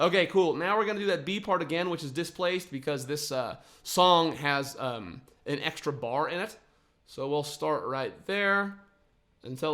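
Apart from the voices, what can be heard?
None of the usual background noises is heard.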